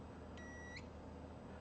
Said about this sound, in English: that's okay to have a little beep because it's charging up the cap